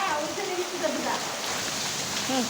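Rain falls steadily in an even, hissing wash of drops on surfaces, with voices talking over it throughout.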